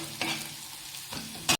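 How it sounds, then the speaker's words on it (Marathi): Onion and garlic fry with spices in a pan, a soft sizzle broken by a few quick stirring scrapes, the last one louder, close and brief. "कांदा थोडासा ब्राऊन झाल्यानंतर मी लसूण ॲड केला आहे."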